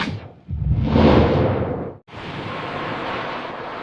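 Stormy wind over a cartoon sea, two broad roaring gusts that swell and fade, split by a brief near-silent gap, with no voices.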